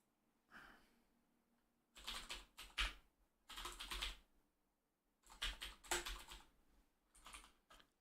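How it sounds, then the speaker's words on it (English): Typing on a computer keyboard in bursts of rapid, close clicking and clacking separated by brief pauses, fairly quiet, with no speech. "That's horrible typing."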